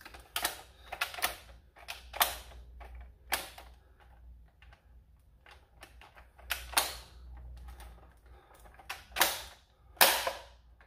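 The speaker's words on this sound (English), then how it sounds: "You kind of have to ram the mags up in there, but it's in there and that works fine." Magazines are rammed into a rifle and it is test fired: a string of sharp clacks, metallic clicks and snappy reports scattered irregularly across the span, fairly close and crisp over a low background rumble.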